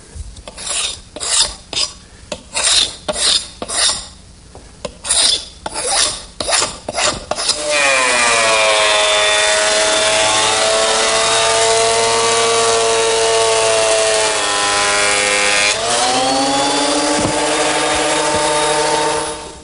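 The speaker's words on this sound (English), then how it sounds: "a 12-inch surface planer, which is where I want to go next, smoothing up the top and bottom surface." A 12-inch surface planer smoothing a wooden butcher block blank, heard first as rhythmic rasping passes and then as a loud, sustained roaring cut that drops in pitch under load before recovering.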